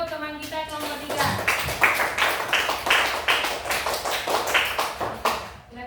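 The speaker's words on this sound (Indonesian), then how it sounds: "kita tepuk tangan dulu untuk teman kita nomor 3" A class of students claps hands together in a steady round of rhythmic applause lasting several seconds, with a voice heard briefly at the start.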